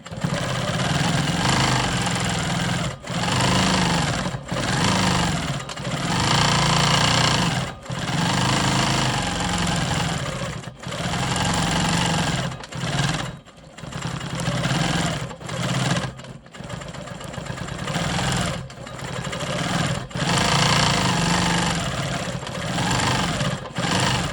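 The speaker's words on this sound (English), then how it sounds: "I'm gonna go ahead and quilt my smoky swirls in the center here." A sewing machine stitches smoky swirl quilting on a rolling stone quilt block, running with a steady, continuous motor hum and rapid needle rattle, broken by brief pauses every few seconds as the stitching stops and restarts.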